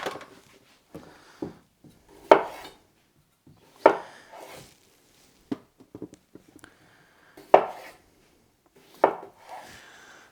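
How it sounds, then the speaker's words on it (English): Potatoes with thin skins are chopped on a cutting board in a home kitchen, several sharp knife strikes spaced irregularly with quieter scraping and small taps between, close and alone without talk. "I'm not going to peel these because the skin is pretty thin. So I'm just going to cut them into smaller pieces."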